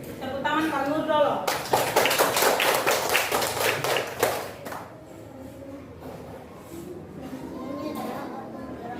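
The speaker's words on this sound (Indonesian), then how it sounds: "Tepuk tangan Pak Nur dulu." A primary school class claps for a pupil at the front in a classroom lesson, a burst of quick rhythmic hand claps for about three seconds, then fading into quiet room murmur and a teacher's voice.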